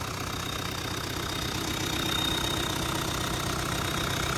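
A Yuchai 4108 diesel engine runs at a smooth, even idle, heard as a close, constant, dense mechanical hum and clatter with no change in pace throughout.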